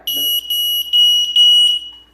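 A carbon monoxide alarm beeps shrilly in a quick series of sustained electronic tones, loud and close, with a brief faint sound just before it starts.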